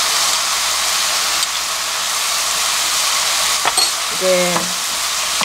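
Bean sprouts stir-fried with curry powder in a hot pan give a loud, steady frying sizzle throughout, with brief scraping and stirring clatter near the end and a short spoken word.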